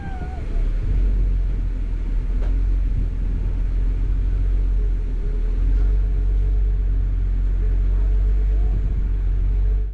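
An off-road rig on 37-inch tires with stock 4.10 gears crawls an obstacle on Hell's Revenge trail, its engine a loud, steady low rumble held under careful throttle with no distinct revs.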